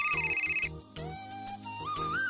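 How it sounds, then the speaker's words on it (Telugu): A phone ringtone plays a short, close electronic melody of bright sustained tones over a pulsing beat, clear and alone, with no talking. "రాధా, మన అమ్మాయి శృతి ఫోన్ చేసింది."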